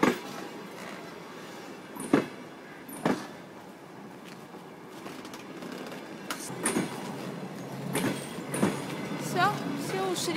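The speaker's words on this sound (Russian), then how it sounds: "Когда-нибудь видели так близко поезда?" A train rolls past at close range in a rural village, a rumbling rush punctuated by sharp metallic clacks and bangs of wheels over rail joints, with brief squeals near the end.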